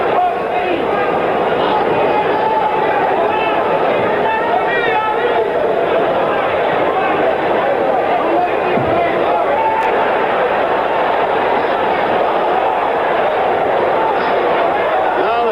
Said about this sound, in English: The crowd is not so elated. They'd like to see some action. And they're letting that fact be known vocally.